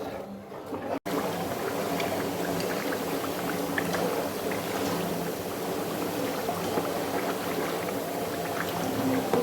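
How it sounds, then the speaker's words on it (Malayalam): Herbal hair oil boiling in a pan, a dense, continuous bubbling hiss that holds steady and close throughout, broken only by one brief dropout near the start. "എണ്ണ തിളച്ച്"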